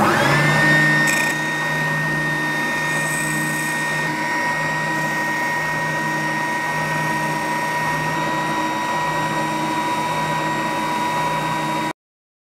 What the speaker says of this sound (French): on se retrouve avec cette ponceuse oscillante